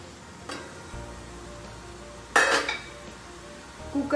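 A metal idli vessel set down into a hot cooker gives a few sharp metallic clanks and knocks, with a louder clatter in the middle, close up in a quiet kitchen.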